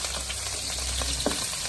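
Garlic sizzles in a hot pan for ginisang pechay, giving a continuous bright frying hiss with small pops and crackles of spattering oil.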